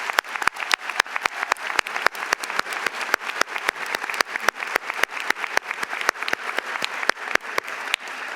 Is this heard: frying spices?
no